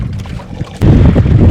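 Strong wind at sea buffets a small fishing boat, a loud, continuous roar of wind noise on the microphone that surges harder after the first second, with no talk.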